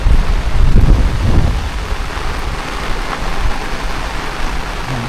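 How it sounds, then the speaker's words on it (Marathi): Heavy rain pours down in a village countryside downpour, a loud continuous hiss with a deep rumble swelling early on, backed by gusts of wind against the microphone. "पाऊस पण जोरात आला आहे"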